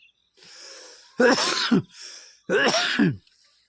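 A person with a cold coughs twice in harsh bursts, with softer throat-clearing rasps in between; close and alone, no talking.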